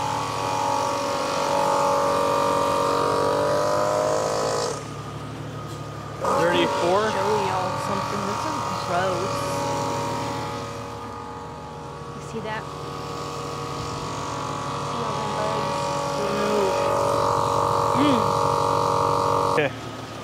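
A portable tire inflator pumps air into tires with a steady, loud droning buzz that dips briefly midway, while a person talks over it.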